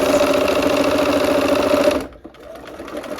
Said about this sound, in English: we will sew, and I'm going to put my needle down so I can slow down as I get closer to the pins